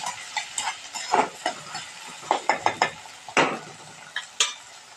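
Spoon scraping and stirring masala in a pan for chole, a series of close, uneven clinks and scrapes over a faint sizzle.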